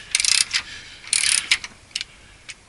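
A ratcheting wrench breaking loose transmission bolts on a Honda DC5 or EP3, heard as close, sharp clicking bursts in short irregular runs separated by brief pauses.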